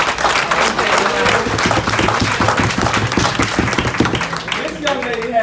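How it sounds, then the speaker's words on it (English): Audience at an NAACP day event at a Tallahassee capitol building applauding steadily, a dense, loud wash of many hands clapping that continues throughout and thins slightly near the end. "let's give her a big round of applause."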